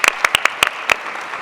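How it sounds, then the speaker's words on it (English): Scattered hand claps from a small audience at a luncheon, about eight sharp, separate claps over a second and a half, close and fairly loud, then fading out. "Go ahead and clap."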